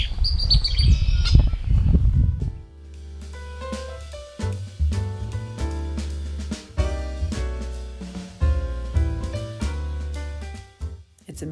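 Red-winged blackbirds at a marsh in Rocky Mountain Arsenal National Wildlife Refuge give a busy run of close, loud chirps and calls, following an opening burst of rustling noise.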